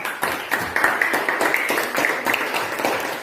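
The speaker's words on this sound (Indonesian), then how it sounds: "Tepuk tangan dulu buat Dede." Classroom students clapping for a classmate named Dede, a steady run of fairly loud, quick hand claps that continues throughout.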